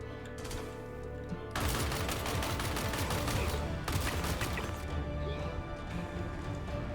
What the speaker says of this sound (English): Oh, I like the LMG.